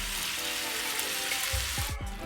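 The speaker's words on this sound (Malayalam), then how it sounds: "ഇപ്പോൾ ഞാൻ ആ തേങ്ങ നന്നായിട്ട് മിക്സ് ചെയ്യുന്നുണ്ട്" Ground coconut, cumin and garlic paste being stirred into sizzling green tomato pachadi, with a steady crackling fry throughout and a few soft scraping strokes of the spoon near the end, close and continuous with no talk.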